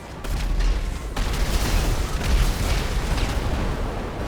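In Grand Theft Auto V Online, a nightclub vehicle's missile turrets blow up a cargo vehicle. A loud, continuous roar of explosions and booming blasts follows, with heavy low rumble and crackling debris, and no talk.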